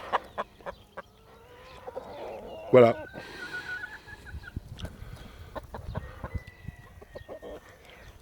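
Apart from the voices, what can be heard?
hens clucking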